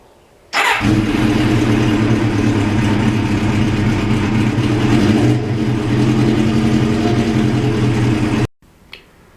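An older motorcycle engine idles steadily up close, a loud, even rumble that starts abruptly and runs for about eight seconds before cutting off, with a brief faint noise after.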